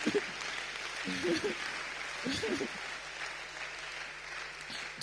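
A church congregation applauding at a service, a broad steady wash of clapping from many hands that fills the space, with some voices murmuring underneath.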